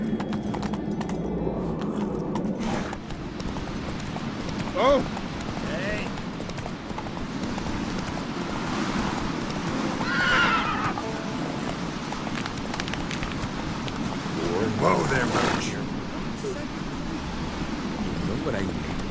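A horse gallops in the video game The Witcher 3 with a steady, rhythmic clip-clop of hooves over a wind-like wash, while voices talk intermittently above it.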